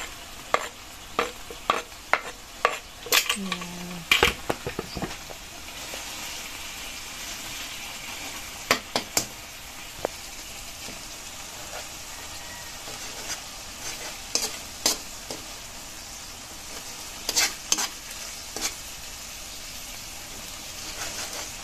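Chili peppers go into a frying pan of cooking alamang (tiny shrimp) and are stirred, giving a steady close sizzle broken by repeated sharp utensil scrapes and clacks against the pan.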